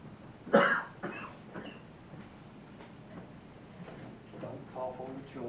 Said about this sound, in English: Don't cough on the children